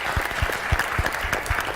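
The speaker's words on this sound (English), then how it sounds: "Please, let's clap for this lady." Audience applause at a live event unveiling the Harambee Stars national football team's technical bench, a dense spread of clapping with a few heavier low thumps, steady and fairly close, with no talking over it.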